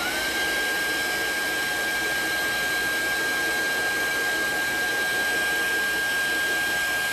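A hair dryer blowing steadily at close range over a handmade craft bag, a loud, even whooshing roar with a thin high whine running through it, unbroken for the whole stretch.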